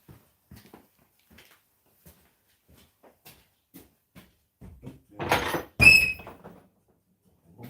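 A door being opened to answer a caller in a home workshop, heard as a brief cluster of creaks and a thunk, fairly loud after several seconds of faint scattered taps.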